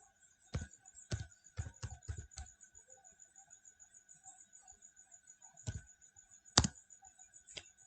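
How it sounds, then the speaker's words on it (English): Scattered keystrokes on a computer keyboard in a lab: a few quick bursts of clicks and isolated taps over a constant faint electronic whine. "So I will be typing it again."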